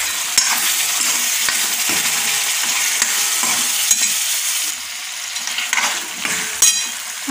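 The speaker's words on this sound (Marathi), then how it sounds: "त्यात आपण आता हे शिजलेले चणे घालूया." Cooked chickpeas go into a pan of frying masala, giving a bright hissing sizzle with scraping stirs and occasional spoon taps, close and steady, easing slightly toward the end.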